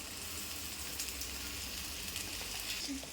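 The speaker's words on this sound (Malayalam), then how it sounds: "അതും കൂടെ ചേർത്ത് നന്നായിട്ട് ബ്രൗൺ നിറമാവുന്ന വരെ വഴറ്റാം" Onions with green chilli sautéing until browned in a pan for Thiruvananthapuram-style chicken curry, a steady close sizzle and crackle running throughout with a few brief spatula scrapes.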